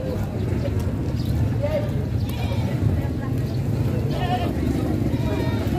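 Goats bleating among a crowd at a cattle-trading livestock market in Padre Garcia, Batangas, with several short bleats rising over steady crowd noise and nearby talk.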